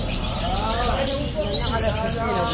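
Caged bulbul birds chirping at an open-air bird market at the old bridge in Baghdad, with repeated tweets and calls in busy surroundings and a vendor's voice talking over them.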